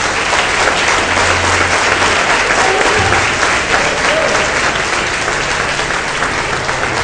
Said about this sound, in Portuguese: E as palmas do Senhor Jesus.